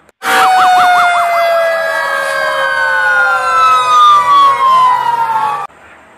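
A loud, close toy fire truck siren wails with rapid warbling sweeps that settle into a long falling tone, then cuts off abruptly.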